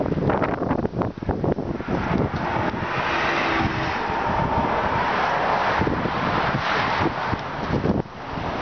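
Cold early-March wind blows steadily outdoors as broadband rushing and buffeting on the microphone, loud and continuous throughout, with no speech.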